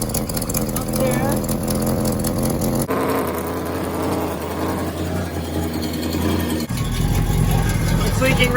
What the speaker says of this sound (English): So this thing's leaking real bad. Leaking from that collector right there.